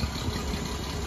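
A car engine idles steadily through a single exhaust routed out the back, a continuous low rumble heard close up with no one talking.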